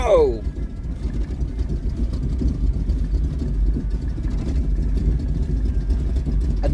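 Classic car engine running rough just after a cold start without pumping or choke, a steady low rumble throughout after a brief rising whine at the start, with a radio also coming on.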